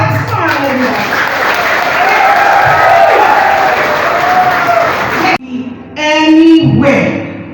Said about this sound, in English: So big round of applause for ourselves.